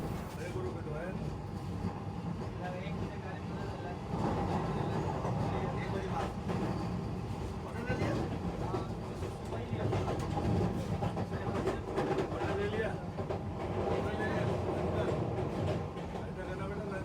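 A Vande Bharat train runs on the rails between Patna and Ranchi, a steady rumble with rhythmic clacking heard from inside the coach, with people talking over it.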